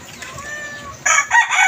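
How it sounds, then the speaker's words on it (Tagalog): A rooster crows in an open-air home kitchen area, the call rising loud and close after a quieter opening of background hum. "O, may sasabungin pang manok."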